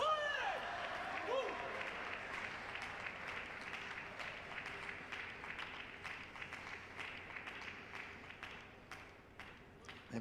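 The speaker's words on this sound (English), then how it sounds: "Still clapping." Coaches clapping at a Paralympic table tennis final between Poland and China, a steady run of sharp handclaps repeating throughout over a low arena murmur, with a commentator talking over it.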